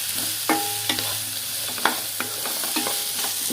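Onions sautéing in a pan for mint chutney, with soft frying hiss and several sharp scrapes and clinks of a spatula stirring against the pan at irregular intervals, close and clear with no talking.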